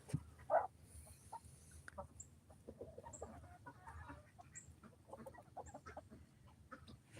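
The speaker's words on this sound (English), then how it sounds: "these are our chickens eating turkeys" Chickens clucking softly while they peck at a turkey carcass, with one louder cluck early on and scattered faint calls and rustling under a quiet farmyard hum.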